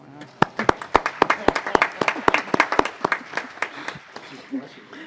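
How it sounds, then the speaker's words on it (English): Applause breaks out at a city council meeting, starting as a few sharp, distinct claps that build into a brief, moderately loud round before tapering off. "So let's give our mayor a round of applause."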